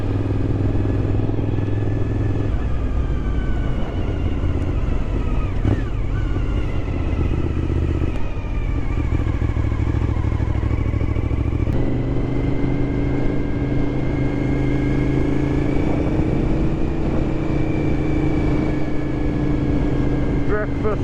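A motorcycle rides along a road with a continuous close engine drone that shifts pitch with gear changes, wind noise throughout and a rider's voice speaking over it.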